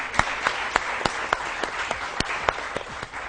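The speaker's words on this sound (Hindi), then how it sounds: "इनके लिए बेशुमार तालियां जी।" Studio audience applause on a morning television show during a kids' fashion segment, a moderate, fairly sparse clapping with distinct loud individual claps repeating over a soft bed of hands.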